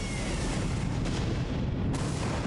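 Dense, continuous rumbling explosions in the video game Sonic Adventure, a loud broadband roar that barely lets up, with bursts overlapping one another and no voices.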